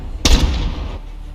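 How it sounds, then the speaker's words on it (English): A single marksman rifle shot fired during a Call of Duty: Modern Warfare gunfight match, a sharp loud crack followed by a short decaying tail. "Marksman rifle hit him up in the upper chest."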